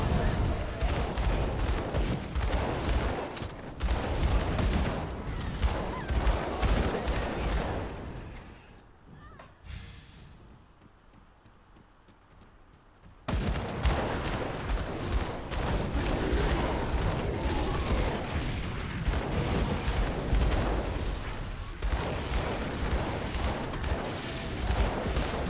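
Rifle fire from enemies in the action RPG Grim Dawn, dense repeated gunshots and impacts mixed with game effects, continuing loudly except for a brief quieter gap midway.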